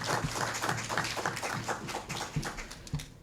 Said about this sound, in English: I think we need to give another round of applause to the Honorable Ambassador